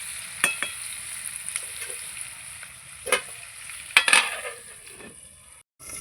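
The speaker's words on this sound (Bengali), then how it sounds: "এবার আমি ঢেকে দেবো, তাড়াতাড়ি ভাজা হয়ে যাবে।" Snakehead fish seasoned with salt and turmeric fries in a covered pan, giving a quiet, steady sizzle marked by several sharp metallic clinks and taps of the lid and utensils.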